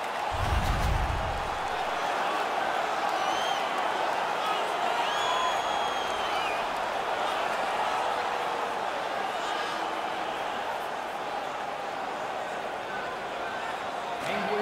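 Steady, continuous crowd roar fills an arena in the NHL 19 ice hockey video game, a dense sustained cheer with a brief low thump at the start, holding at an even level throughout.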